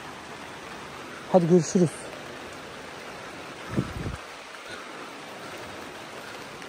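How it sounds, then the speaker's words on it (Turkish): Rain falling steadily at a village greenhouse, a broad continuous hiss throughout, briefly interrupted by short bursts of talk. "Yağmur nasıl yağıyor baksanıza."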